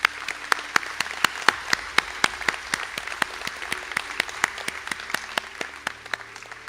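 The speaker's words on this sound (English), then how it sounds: "for a round of applause" An audience applauds steadily at a college conferring ceremony in Sligo, a crowd of hands clapping with a few sharp claps standing out, continuous throughout.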